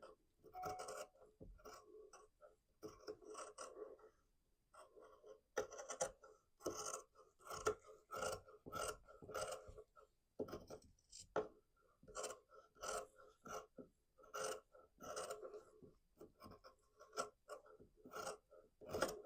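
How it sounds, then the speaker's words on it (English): Scissors trim quilted fabric along an outline, making a run of quiet crisp snips in irregular bursts with short pauses between cuts. "now we're going to take our scissors and we're going to trim just on the outside of this outline"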